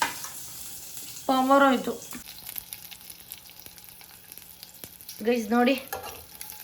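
Curry leaves crackle and sizzle in hot oil during tempering, a steady close frying hiss that continues under two short bursts of someone talking.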